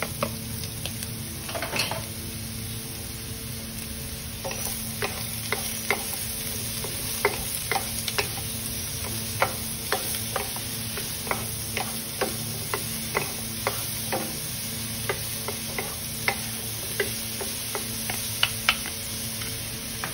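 Mushrooms sauté in a pan with a steady sizzle while a utensil stirs them, giving repeated clicks and scrapes against the pan at an uneven rhythm, close up and without speech.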